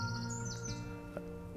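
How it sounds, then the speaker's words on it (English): Small birds chirp and tweet faintly in woodland at a veterans' village park, with brief bright calls over a low steady background hum. "You can hear the birds singing even now"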